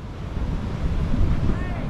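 Big ocean waves crash against a rocky shore as a low rumbling surge, heavy with wind buffeting the microphone. The sound is close and continuous.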